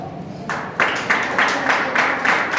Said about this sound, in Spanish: Denles un fuerte aplauso.